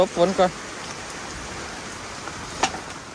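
Steady hiss of heavy rain pouring down, with a brief voice at the start and a sharp tap partway through.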